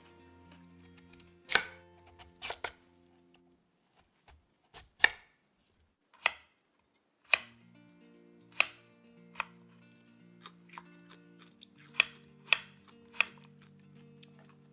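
Sharp knife chops finely cutting a small radish on a cutting board, irregular single strikes and short bursts, close and fairly crisp, with quiet pauses between them.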